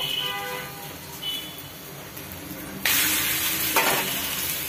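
A Navratri pancake shallow-frying in oil and roasted on both sides, a moderate sizzle that swells abruptly into a louder hiss partway through, close by.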